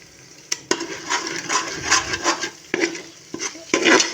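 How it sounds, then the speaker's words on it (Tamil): A ladle scraping and stirring goat mutton biryani masala in a cooking pot, with irregular metallic clinks and scrapes over a soft frying sizzle, close up and without talking. "தூரில் பிடிக்காமல் நல்லா கிண்டிக்கிட்டே இருக்கணும்."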